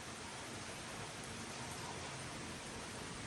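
Steady rain falls outside, a soft continuous broadband hiss at low level that stays unchanged from start to finish, with no voice over it.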